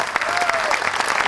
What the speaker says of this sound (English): Can I have a bigger round of applause for her?